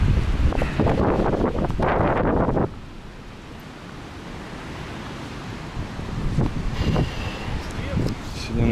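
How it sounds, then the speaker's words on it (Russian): Strong wind gusts buffet the microphone at a seaside port in Alanya on a rainy January day, a steady roaring rush with surf-like noise, loudest early on, while people talk nearby at the start and again toward the end. "Тут, блин, ветер."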